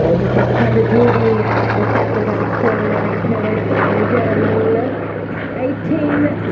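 A Hawker Sea Fury fighter's 3050-horsepower, 18-cylinder radial piston engine roars steadily at an airfield, a loud continuous propeller drone with a deep constant tone, voices faintly talking over it.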